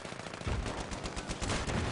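Rapid automatic gunfire in the video game Battlefield 3 during a multiplayer match, a loud, dense burst of shots that continues through the whole two seconds, with no talking.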